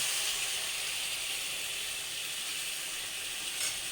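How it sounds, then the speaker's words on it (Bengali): Cumin paste fries in a pan for Bengali boot dal, giving a steady, dense sizzle that holds evenly throughout with no voices. "অ্যাড করলাম একটু জিরা বাটা। ভাজা হয়ে এসছে"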